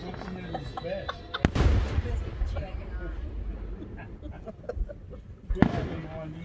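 Fireworks explode in two loud, sharp booms several seconds apart, each trailing off in a rumbling crackle, while nearby voices talk over and between the blasts.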